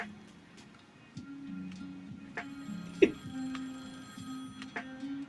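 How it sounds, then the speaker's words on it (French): A phone rings with a repeating electronic tone pattern, fairly quiet, with a sharp click partway through and faint background noise. "Mon téléphone, il sonne."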